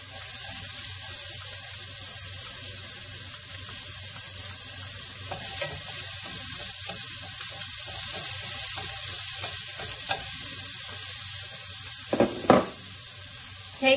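Shallots and garlic frying in a shallow layer of oil, a steady close sizzle with occasional stirring clinks and scrapes that grow louder toward the end.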